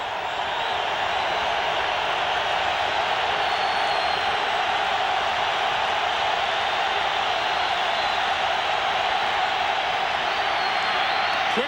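A stadium crowd at a Broncos versus Jaguars NFL football game, a steady, loud, dense roar of many voices that holds throughout without breaks.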